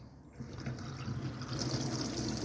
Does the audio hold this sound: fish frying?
no